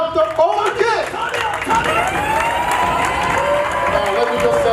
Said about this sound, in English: A big round of applause to Dr. OJONG.